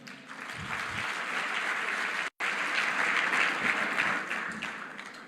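Round of applause from guests at a Team Botswana appreciation dinner honoring athletes; dense, sustained clapping from a large crowd, broken by one brief dropout midway, with no talk over it.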